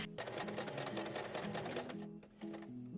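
A sewing machine straight stitching linen belt loops, running steadily and close with a fast rhythmic mechanical chatter and hum, easing briefly before picking up again.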